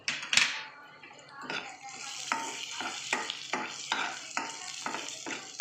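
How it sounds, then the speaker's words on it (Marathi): Spicy black masala fries in a pan with a soft sizzle, punctuated by a sharp clatter at the start and then a regular series of spoon strokes scraping the pan, close and moderately quiet. "तिखट काळा मसाला व्यवस्थित फ्राय करून घेऊ"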